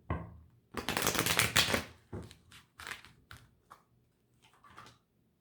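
Tarot cards shuffled in a burst of dense papery riffling, then drawn and laid down with several short separate flicks and taps, close and fairly quiet, no voice.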